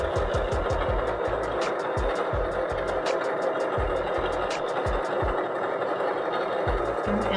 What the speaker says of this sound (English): take it to your machine, and I'm using a machine, but you don't need a machine to do this. And we just sew from there.